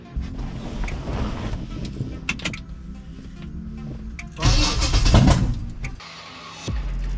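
A Blueprint 540 big block engine in a C10 truck cranks and fires, with a starter whir building into a loud, rough roar around the middle, then dropping back before a final thump.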